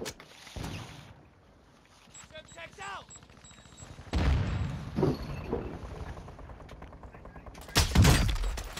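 Sniper rifle fire in Modern Warfare 2 on the Vondel Park map, with several heavy booming shots and crackling impacts scattered through the clip amid game noise and a player talking.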